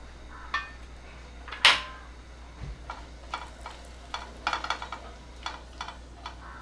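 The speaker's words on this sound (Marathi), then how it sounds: "आता हा सगळा खडा मसाला मी तेलात घालते" Whole spices, cinnamon and star anise, dropped into hot oil for a paneer and capsicum dish, giving a sharp splash followed by a light crackling sizzle with scattered clinks of a utensil against the pan.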